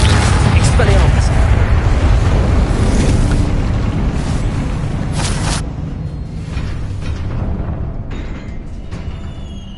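An Expelliarmus spell in Hogwarts Legacy, a loud rumbling magical blast with crackling bursts that fades into a lower, quieter rumble after about six seconds.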